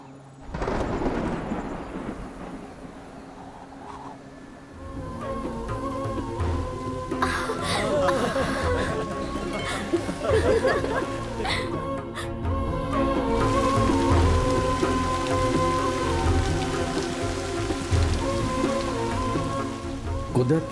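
A heavy thunderstorm soaks a forest, with dense rain hissing throughout and rolls of thunder cracking and rumbling through the middle, loud and near.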